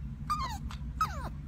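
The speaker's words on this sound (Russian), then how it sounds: "Злая собака." A Yorkshire terrier close by makes two short, strained, whiny growling sounds over a low background hum, with no talking.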